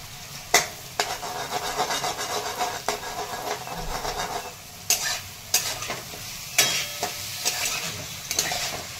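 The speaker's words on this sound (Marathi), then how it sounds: "छान आता हे परतून घ्यायचं मिक्स करून।" Sprouted moong beans with turmeric are sautéed in a pan, with steady stirring scrapes and rubbing over a continuous low sizzle and a few sharper knocks, close up with no talking.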